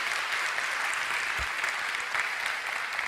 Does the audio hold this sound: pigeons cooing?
no